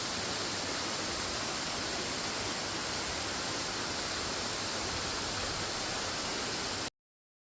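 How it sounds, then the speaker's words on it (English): Kaliam Kocha waterfall, a small fall among rocks and greenery, gives a steady, dense roar of water spilling over stone, loud and unbroken for about seven seconds before cutting off abruptly, with no voices. "another hidden spot, Kaliam Kocha waterfall, smaller, but surrounded by rocks and greenery"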